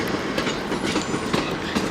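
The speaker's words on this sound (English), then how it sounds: "That is the 1141 South Western Railway service from Reading on" South Western Railway passenger train, the 11:41 service from Reading, passing at London Waterloo with a steady rumble and rail clatter, close and continuous throughout.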